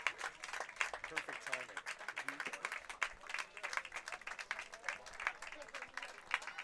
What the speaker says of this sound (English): So Ryan Heppner gets a huge round of applause here as we see a pitching change for BC.